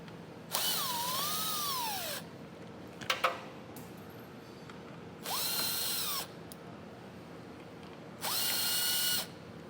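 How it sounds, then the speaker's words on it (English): A cordless power tool removes 7mm bolts from underneath a vehicle's front fascia. Three separate whirring bursts rise and settle in pitch, with a brief metallic clatter between the first two. "we have 8 7mm bolts to take out first"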